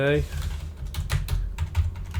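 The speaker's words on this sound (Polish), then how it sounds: "WSAD, WSAD, ja to teraz naciskam mniej więcej z taką mocą, jak naciskam grając." Typing on the W, S, A and D keys of a computer keyboard, pressed with gaming force, giving a quick series of sharp close clicks in an uneven rhythm.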